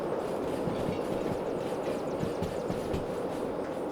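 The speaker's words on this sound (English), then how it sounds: "Just putting some train brake on." Train brakes catch on locomotives in the Derail Valley simulation game, a dense, steady rumble with rattling, clattering wheel noise that holds throughout.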